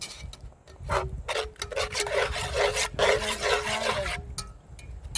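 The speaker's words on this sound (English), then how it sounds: "So she's scraping the bottom now." A spoon scrapes the bottom of a venison Irish stew pot over an open fire, with rough rasping strokes repeated in quick bursts, loud and close.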